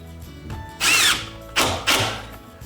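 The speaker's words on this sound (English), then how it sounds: "Throw a couple of screws in the middle of the sheet." A power drill drives screws into a drywall sheet held up against a ceiling, three loud whirring bursts, the first longer and the next two short, close by.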